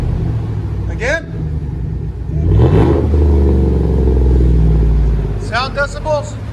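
A Chevy/GMC 5.3L V8 with a single straight-pipe exhaust revs hard once, a loud deep roar swelling and falling back to a rumbling idle, with voices speaking briefly before and after.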